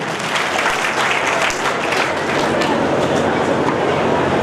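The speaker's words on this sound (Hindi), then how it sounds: "जोरदार तालियां उनके लिए" A crowd at a community award ceremony breaks into loud, dense applause that holds steady throughout, honoring a donation.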